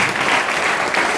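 Dense, loud applause from an audience at a leadership training session, a steady wash of many hands clapping together throughout.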